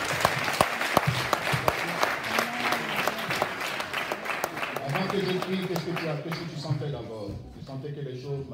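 A church congregation applauding Jesus during a service, with steady, loud clapping from many hands lasting several seconds while a voice speaks over it.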